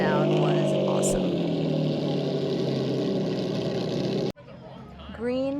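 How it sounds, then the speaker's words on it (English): A classic V12 car engine hums and roars loudly with a rich, layered tone, then cuts off abruptly before a thinner revving sound follows. "this classic V12 sound was awesome"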